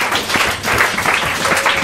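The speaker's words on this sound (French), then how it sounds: "Est-ce qu'on peut applaudir la parole du Seigneur?" A church congregation at a Sunday service claps together, a brief, dense burst of applause that fills the room evenly at close range.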